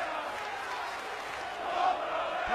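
A wrestling crowd at a Ring of Honor Global Wars 2015 title match cheers and roars steadily, a dense wash of voices that swells slightly near the end, with no distinct talk over it.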